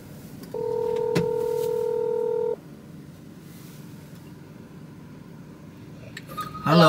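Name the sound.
phone call being dialed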